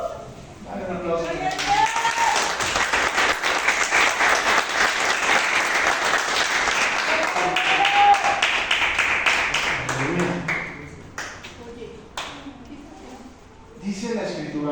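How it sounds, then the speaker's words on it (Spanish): A church congregation breaks into loud, sustained applause during a sermon, dense clapping holding steady for about ten seconds before thinning into scattered claps and murmuring voices. "Dale un aplauso"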